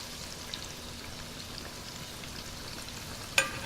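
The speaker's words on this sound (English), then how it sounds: "Yeah, these are frying up real good." Spring rolls frying in hot oil, a soft steady crackle and sizzle with a sharp click near the end.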